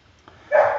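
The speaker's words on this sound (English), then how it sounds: "I don't know if you can hear a dog barking." A single dog bark sounds in the background, short and somewhat muffled, rising abruptly after a quiet lead-in.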